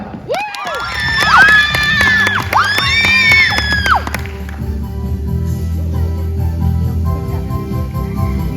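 A crowd at a show cheers and whoops loudly at the start, with high shouts rising and falling, then settling into a lower, steady murmur of the audience.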